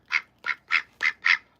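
Olivia Gray, a pet duck, quacking six times in quick, regular succession, loud and close with no voices over it.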